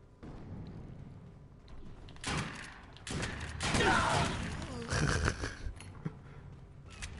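In the shooter Defiance 2050, a grenade goes off amid gunfire in a player-versus-player match, heard as a few loud bursts and crackling blasts in quick succession among other combat noise.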